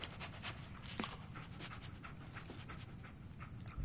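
Dogmeat, the dog companion in the video game Fallout 4, pants rapidly and steadily up close, with a continuous breathy rhythm and no talking.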